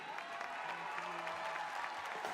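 Faint, steady audience applause for a Jive dance performance, continuous dense clapping with a murmur of crowd beneath it.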